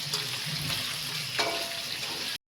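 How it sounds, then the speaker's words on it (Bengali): Koi fish frying in oil in a pan, a continuous close sizzle with a soft stir or shift partway through, ending abruptly. "এই যে আমি এখন কই মাছ ভাজছি"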